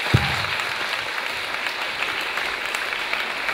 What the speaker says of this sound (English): keep your applause going for a man who's going to grace the stage